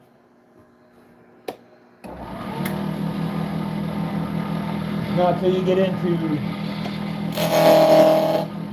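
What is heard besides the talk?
machine cutting corners off square metal stock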